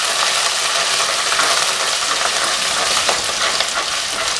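Crushed ginger and garlic sauté in a hot pan for a Kerala duck pepper roast, giving a steady, close sizzle with faint stirring scrapes throughout and no voices.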